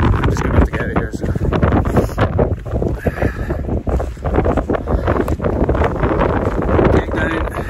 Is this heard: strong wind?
yes